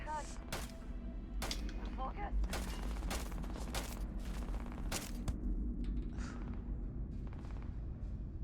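Rapid gunfire in a space video game, a burst of sharp shots and booming impacts cracking out in irregular clusters, fairly faint overall, with a voice talking over it.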